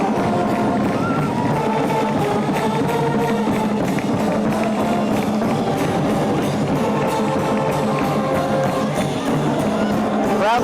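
A high school football crowd roars and whoops after a touchdown in a 1984 game, a dense, loud, sustained wall of cheering and babble with no break.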